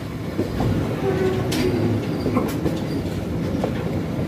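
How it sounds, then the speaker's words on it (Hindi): A train shunts at Kotri Junction in Pakistan with a steady rumbling roll, clickety-clack wheel knocks and brief metallic squeals close by, with no talking. "और ये शंटिंग हो रही है।"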